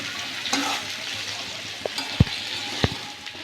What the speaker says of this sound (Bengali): এই সবজিটা দিয়েও আমি আরেকটু ভেজে নেব